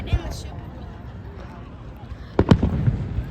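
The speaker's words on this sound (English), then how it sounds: "the fireworks would be shooting" Fifth of July fireworks go off in a couple of sharp, loud bangs in quick succession near the end, over a continuous murmur of people talking nearby.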